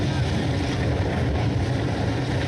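Diesel race pickup trucks rev at the start of a race, a dense, steady engine roar heard from a distance, with no clear change in pitch.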